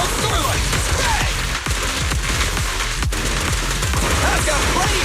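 Rapid gunfire in the Zenless Zone Zero video game, a dense, loud burst of shots hammering continuously for several seconds with sharp impacts mixed in.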